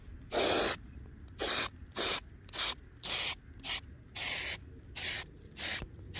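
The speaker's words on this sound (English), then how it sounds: "now I'm going to give it a final coat of clear lacquer to protect the white paint" Spray can of clear lacquer coating a painted white motorcycle headlight fairing on a Honda CRM 250 two-stroke, about ten short hissing bursts in an uneven rhythm, close and crisp with quiet gaps between.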